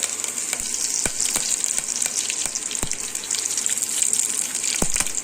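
Cumin seeds and curry leaves sizzle in hot oil with a bright, constant hiss, broken by sharp crackling pops and a few stirring clicks at close range.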